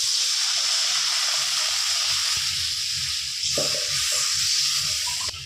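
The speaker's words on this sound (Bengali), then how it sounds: "কষানো হয়ে গেছে এবার দিয়ে দেবো জল আমি মশলার বাটি ধোয়া জলটাই দিয়ে দেবো" Loud hissing sizzle fills the clip as water hits frying mustard spice paste in a hot pan, with bubbling and a few scraping knocks underneath; no one speaks.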